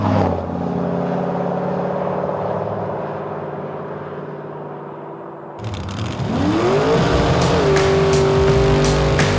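A muscle car drones along at a steady engine pitch, then after a brief shift it revs and accelerates hard, the loud engine note climbing and holding high.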